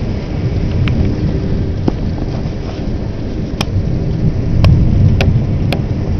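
A heavy thunderstorm fills the air with steady rain and wind buffeting the microphone, as low rumbling thunder rolls underneath and several sharp cracks strike near the end.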